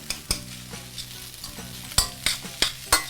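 Rice with egg and Chinese sausage is stir-fried in a wok, a loud sizzle broken by regular sharp metal spatula strikes against the wok, several in quick succession toward the end; no voices.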